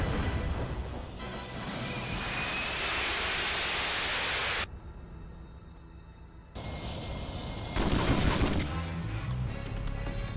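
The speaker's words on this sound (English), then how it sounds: "she can fly a Harrier. The most complicated jet on the fucking planet" A Harrier jump jet roars in the video game James Bond 007: Agent Under Fire. The loud, broadband rushing engine noise drops sharply for a couple of seconds, then surges back even stronger.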